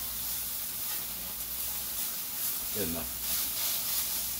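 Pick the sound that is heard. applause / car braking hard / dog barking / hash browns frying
hash browns frying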